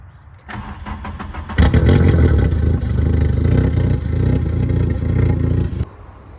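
A Mk1 Rabbit pickup truck engine with its muffler deleted cranks briefly, catches, then runs loud, raw and rattly at a steady idle for several seconds before shutting off abruptly.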